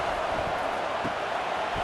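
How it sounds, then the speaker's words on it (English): A football stadium crowd roaring during an Akron at Ohio State college game on third down, a steady, distant wash of cheering and noise held at an even level throughout. "Decibels rising as the crowd gets behind this defense on third down."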